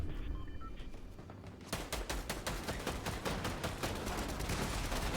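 Rapid bursts of automatic gunfire from the Fortnite video game crackle in quick repeated volleys, loud and sustained over several seconds after a brief quieter stretch with faint background game sounds.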